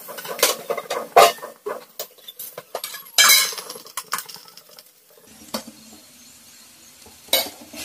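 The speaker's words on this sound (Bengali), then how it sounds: "চলুন এটা একটু গরম জল দিয়ে হালকা করে ধুয়ে নেবো ভালো করে" Pulao rice gets rinsed by hand in hot water in a metal bowl, producing irregular close bursts of swishing, rattling grains and sharp metallic clinks, with quieter pauses in between and no talking.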